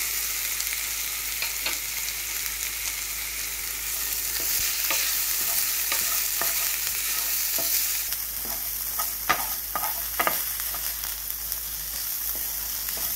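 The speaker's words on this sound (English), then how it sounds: "Now saute this onion till it becomes light brown in color" Onion and green chili sauté in a hot pan, a steady close sizzle broken by repeated scraping stirs of a spoon against the metal, with no talking.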